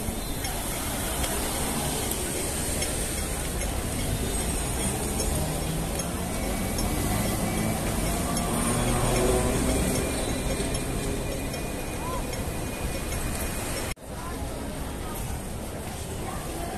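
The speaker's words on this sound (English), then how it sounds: "That is the tram." A tram rolls past on the street, a steady broadband rumble with faint metallic clinks that swells toward the middle and fades, with speech over it and a brief break near the end.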